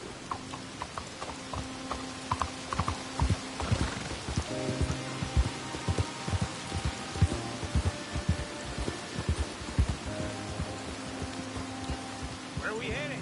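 In Red Dead Redemption 2, horse hooves clip-clop in a steady walking rhythm over a soft hiss of rain, fairly close, with low tonal ambience and some faint voices in the background.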